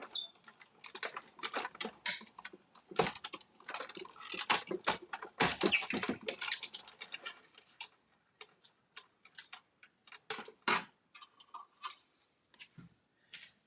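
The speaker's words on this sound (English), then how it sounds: "Putting it through my die cut machine, my big shot." A Big Shot die cut machine cuts card. It gives quiet, close, irregular clicks and ticks in uneven clusters, with brief pauses between bursts.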